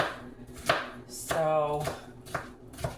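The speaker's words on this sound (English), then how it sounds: "adding onion as I chop it up" A knife chops onion on a cutting board for an Italian zucchini dish, a few close, sharp taps at an uneven pace, with low background noise and a brief tonal hum in the middle.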